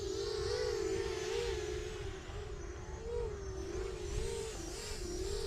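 A GEPRC Tern LR40 long-range drone flies nearby, its motors and bi-blade propellers giving a steady, buzzing whine that rises and falls slightly in pitch as it maneuvers.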